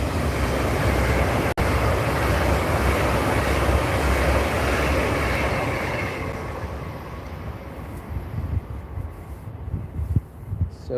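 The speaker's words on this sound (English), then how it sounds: "So we've just got an LNER service coming through." An LNER passenger train passes through Peterborough station: a steady, loud broadband rumble and rush for about six seconds, then easing and thinning toward the end, with no voices.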